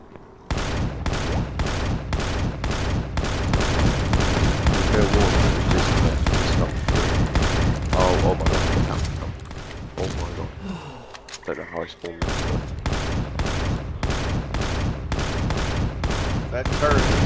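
A turret in Empyrion - Galactic Survival fires a steady, loud stream of evenly spaced shots, pausing briefly midway before the rhythmic volley resumes, while players talk over it.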